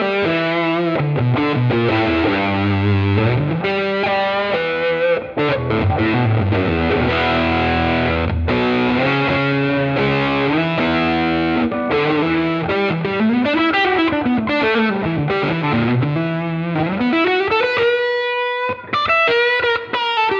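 Electric guitar played through a Fractal FM3 Blues Extra drive preset, a thick overdriven tone with sustained chords and single-note lines, continuous and loud with no talking.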